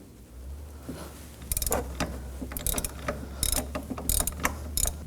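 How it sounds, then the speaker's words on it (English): Ratchet with a 17mm socket working engine mount bolts loose on a 2014–2020 Acura MDX, quick bursts of close, crisp clicking in several short runs over a low background hum. "Using a 17mm socket, we can now do this one."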